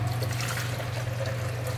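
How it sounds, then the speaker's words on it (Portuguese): Vinegar trickles and pours into the water reservoir of a Dolce Gusto Genio S Plus coffee machine, a close, steady liquid gurgle over a low hum. "Eu vou colocar o vinagre."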